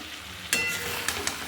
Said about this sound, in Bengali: এবারে ভালো করে কষিয়ে নিচ্ছি